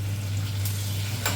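Green chillies, garlic and dried chillies with curry leaves sizzle steadily in hot oil, a close, continuous fry under a low electrical hum, with no talking.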